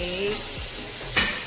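Steak sizzles in a pan at home, a steady crackling fry close by, broken by a brief scrape or clink of a utensil against the pan near the end.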